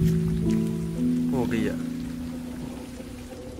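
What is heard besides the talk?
heavy rain in a village near Gujranwala, Pakistan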